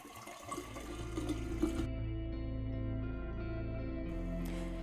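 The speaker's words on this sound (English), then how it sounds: "I'm just going to pour it into the bottle" Liquid pouring from a container into a SodaStream bottle in a home kitchen, a steady continuous watery stream running throughout, close and moderately loud with a slight echo and no talking.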